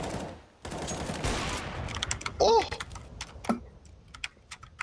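Rapid automatic gunfire bursts from the CS:GO video game, sharp cracks scattered across the moment with a louder volley midway, mixed under player voices.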